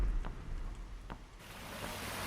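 Rain falls in a video game as a soft, steady hiss that swells slightly louder partway through, with faint patter and no voices.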